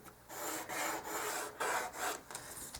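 A ruler slides back and forth along a wooden model bungalow roof, producing a series of close, soft rubbing scrapes in short strokes with brief pauses between them, no talking.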